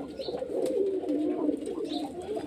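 Murshidabad Giribaz line pigeons coo in soft, rolling throaty calls, overlapping and repeating close by, with faint background noise.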